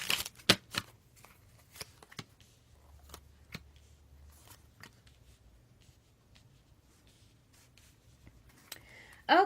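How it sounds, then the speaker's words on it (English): Sparse, scattered clicks and soft snaps of tarot cards being handled and shuffled, in a quiet room, ending with a brief louder rustle. "One more shuffle for Taurus and all those who love Taurus."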